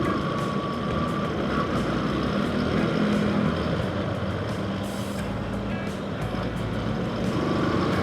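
Dense street traffic in Divisoria, with tuk-tuks, trucks and cars rumbling continuously near a stoplight crossing, forming a steady loud engine drone with faint horn-like tones rising over the mix.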